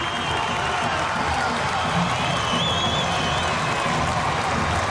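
Football stadium crowd at a college game, a broad continuous roar of cheering and noise after a touchdown, loud and sustained with whistles rising above it.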